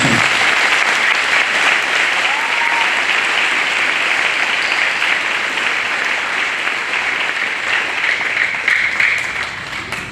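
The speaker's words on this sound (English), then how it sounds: "let's give them a big round of applause" A crowd at an 8th grade promotion ceremony gives the graduates a big, loud round of applause, a thick continuous roar of clapping lasting about ten seconds with a faint cheer in the middle.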